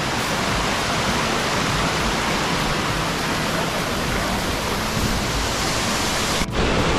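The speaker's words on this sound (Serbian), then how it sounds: "sad smo na vodopadima Kozice" Kozice waterfalls, a loud unbroken roar of falling water, broad and steady as if heard from close by, with no other sounds standing out.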